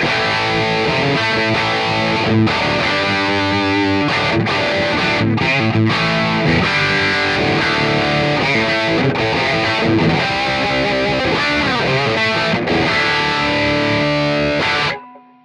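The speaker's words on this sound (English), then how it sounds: "So I'll whack the tube screamer on as well, just to beef it up." Electric guitar through a Zoom MS-50G multi-effects pedal with Tube Screamer overdrive plays a thick, saturated riff for about fifteen seconds, loud and sustained, then cuts off abruptly at the end.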